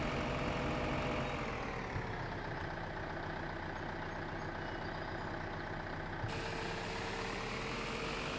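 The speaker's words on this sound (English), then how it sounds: "You can hear the revs just increase as the tipper ram is extended." Truck engine in Farming Simulator 2015 drones steadily and loudly, its pitch gradually climbing as the revs rise while the tipper ram extends, then levelling off, with no talk over it.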